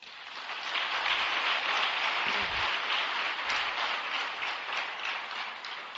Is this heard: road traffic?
no